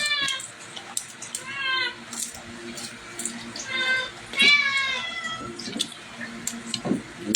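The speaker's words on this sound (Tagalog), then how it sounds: "Mingaw na yung pusa." A cat meows several times, drawn-out and insistent, close by, with some faint household noise and voices in between.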